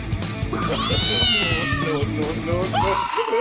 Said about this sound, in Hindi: इतना प्यारा बिल्ली का बच्चा